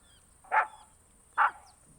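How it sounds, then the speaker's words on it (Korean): Cartoon dog Snuffy barks at a tree in the woods, two short, sharp, bright barks about a second apart, close and clear against near silence. "스너피가 나무로 달려가서 짖기 시작하는 거예요"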